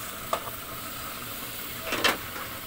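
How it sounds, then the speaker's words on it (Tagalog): Vegetables sauté in a pan with a constant low sizzle. Two brief scraping stirs stand out, a faint one early and a louder one near the end. "Gigisa lang ito, gisa-gisa hanggang sa maluto."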